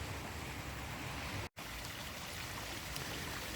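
The River Irk flowing beside a footpath, a steady close broadband rush of water with one momentary cut in the middle.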